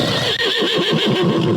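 A horse in the video game World of Warcraft gives one loud, close whinny, a quavering neigh that lasts over a second and stands alone without speech.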